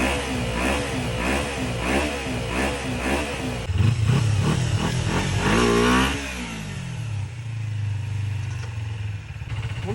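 Close motorcycle engine revving repeatedly in quick bursts, then dropping back to a steady lower idle; loud and mechanical throughout.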